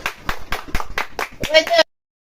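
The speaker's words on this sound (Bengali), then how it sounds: "তাহলে এই তালি দাও" A run of quick, evenly spaced hand claps, fairly close and loud, mixed with voices talking and calling out over them.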